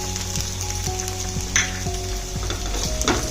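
Crushed ginger frying in a pan with garlic cloves for noodles, a loud continuous sizzle with rhythmic spatula stirring and scraping, close up and without speech.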